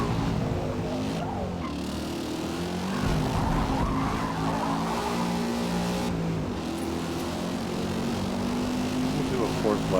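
A race car in the Forza Motorsport game braking hard, engine roar dropping with tire squeal and skidding, loud and continuous, with a voice talking over it.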